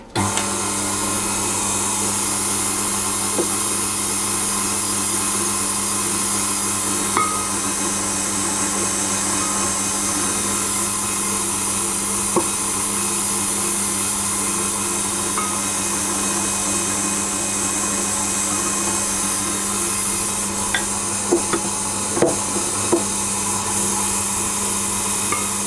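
A stand mixer on low speed kneads cinnamon swirl bread dough, giving a steady, close motor whir with a constant hum that runs unbroken throughout, with a few faint clicks and knocks from the bowl near the end.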